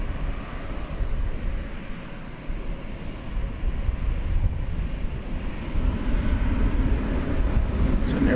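An Airbus A321 at Dallas Fort Worth airport sends a low, rumbling engine drone across the field, moderately loud and steady with some wind buffeting, rising a little toward the end.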